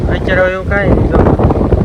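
Strong wind buffets the microphone in loud, rumbling gusts that run the full length. Speech is heard partly through the roar.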